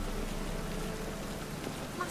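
Steady rainfall in The Witcher 3 makes a faint, continuous hiss with no breaks, heard from within the game world.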